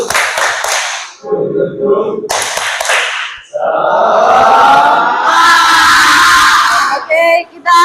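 A class in an Islamic religious education lesson does a rhythmic 'tepuk semangat' spirit clap, loud bursts of chanted shouting and clapping in several phrases with short pauses between them.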